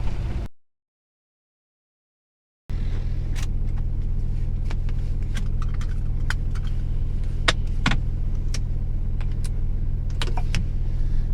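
A loaded vehicle drives along a road in Turkey, giving a steady low rumble of engine and tyres with faint rattles. The sound cuts to silence briefly near the start, then returns.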